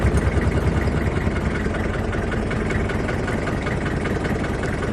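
A vehicle engine idles close by with a rough, rapid low chugging pulse, loud and steady throughout with no voices.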